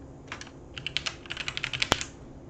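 A fast run of close computer keyboard keystrokes as a simple new password is typed, a quick irregular burst of clicks ending in a sharper key press.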